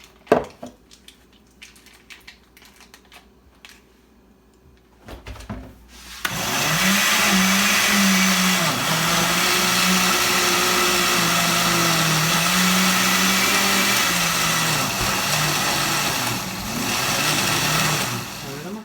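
A blender whirs loudly and steadily, mixing condensed milk, cream cheese and egg for a healthy cheesecake, starting abruptly after a few seconds of quiet kitchen clatter and running with a slight wavering in pitch.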